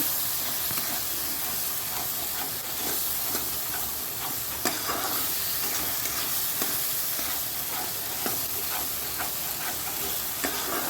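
Whole spices, cardamom, cinnamon, cloves and cumin with a five-spice tempering, sizzling in leftover egg-frying oil for a dal, a dense continuous hiss with scattered crackles throughout, no talking.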